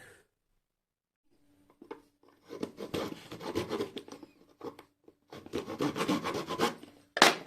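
A wooden piece is cut by hand during a guitar repair, with close rasping, rubbing sawing strokes in two bursts after a quiet start, ending with a sharp scrape.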